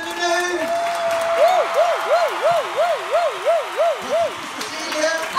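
Steady, dense audience applause fills the room from start to finish, with a high warbling, whistle-like tone rising and falling over it through the middle.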